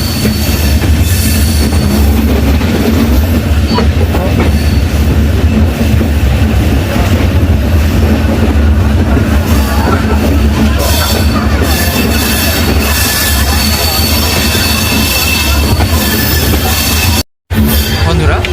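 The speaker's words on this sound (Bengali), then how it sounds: "কলকাতা বালুরঘাট তেভাগা এক্সপ্রেস একদম নির্ধারিত সময় 12:55 অনেক বেশ কিছুক্ষণ আগেই ছেড়ে দিয়েছে" Kolkata–Balurghat Tebhaga Express, an LHB-coach passenger train, rolling steadily on the rails after leaving Kolkata, with a loud continuous rumble of wheels and coaches and occasional squeal and clatter, no talk.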